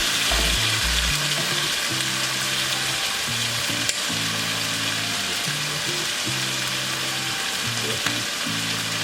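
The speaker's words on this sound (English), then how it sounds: "I'm going to let it brown for probably 15 minutes." Chicken browns in a pot for Jamaican brown stew chicken, sizzling steadily and close up, with soft background music playing underneath.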